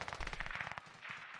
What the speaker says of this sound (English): Gotta try the SPR. Sniper rifle. One shot.